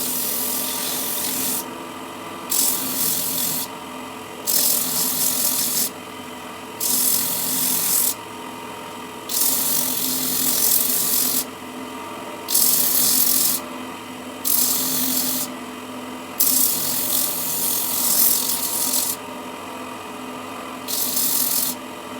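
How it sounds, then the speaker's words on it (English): Hand sanding the bottom of a wooden bucket with 80 grit sandpaper, rhythmic back-and-forth rasping strokes in short bursts with brief pauses between, close and fairly quiet. "what I'm going to do now is sand off the bottom of the thing, clean that up, and just tidy up the edges where the saw cuts were"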